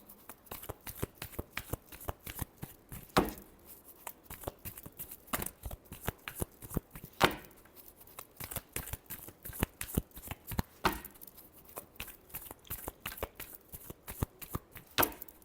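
Tarot cards are shuffled by hand in rapid riffling bursts. Sharp, close flutters repeat continuously with brief pauses between runs, and no voices are heard.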